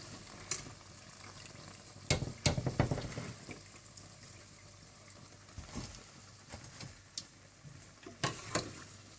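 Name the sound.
deep frying iftar snacks in oil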